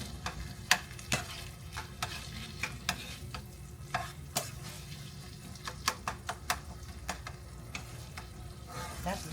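Taco meat frying in a pan while being stirred, with a continuous low sizzle broken by frequent sharp scrapes and clicks of the utensil against the pan, close up and without talk.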